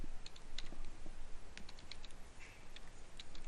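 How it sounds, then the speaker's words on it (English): Typing on a computer keyboard: quiet, close, irregular clicks of individual keystrokes in a fast rhythm over faint background hiss, with no talking. "Sorry, I thought I was typing and I wasn't."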